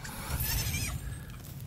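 A sheep-like creature in the Palworld survival game gives a single close, bright bleat beside a campfire being built, steady and unbroken for a moment.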